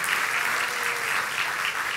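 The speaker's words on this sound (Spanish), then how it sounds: "yo quisiera que le den un aplauso a todos esos padres" A church congregation applauds the parents, a steady wash of many hands clapping together, loud and continuous with no voices over it.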